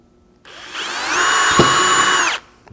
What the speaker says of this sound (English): Now you can drill a small pilot hole there.